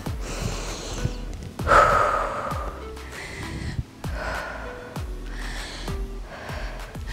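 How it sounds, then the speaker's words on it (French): Heavy, rhythmic panting breaths of someone out of breath during a gentle cardio workout, with repeated sharp exhales and gasps close to the microphone and no talking. "C'est normal d'essouffler, c'est même bien."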